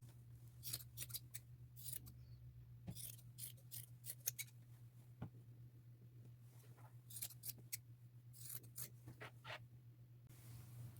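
Scissors snip through fabric patches for a patchwork bucket hat, a steady series of close, crisp cuts over a faint constant hum, with no talking.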